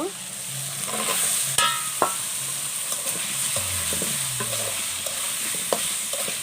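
Chickpeas and sponge gourd fry in a pan while a spatula stirs them, giving a steady soft sizzle under repeated scraping and a few sharper knocks against the pan, close and moderately loud.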